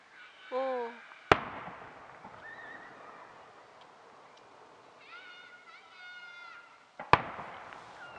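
Two loud firework bangs some seconds apart, each with a fading rumble, while whistling launch sounds and distant crackles fill the gaps.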